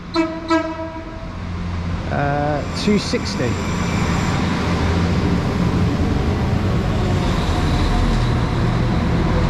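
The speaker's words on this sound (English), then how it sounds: "now arriving is going to be our train to take us over to Hazelhatch" A train horn sounds briefly, then the rumble of a train arriving at an Irish station platform grows and holds steady, with clattering rail noise throughout.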